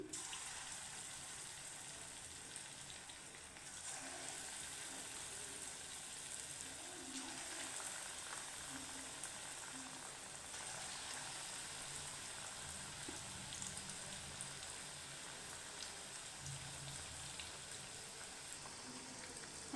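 Ripe banana fritters frying gently in oil over low heat, a faint, even, continuous sizzle with a soft crackling hiss throughout, no talking.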